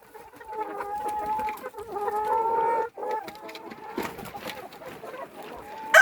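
Hens cluck and chatter in a backyard coop, a busy run of close, overlapping calls with short pauses and a louder burst at the end.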